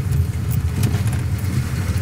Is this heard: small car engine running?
yes